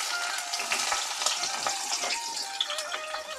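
Cinnamon, bay leaf and a large onion sizzle in hot oil, a close, continuous crackling fry with small pops and stirring, no voices.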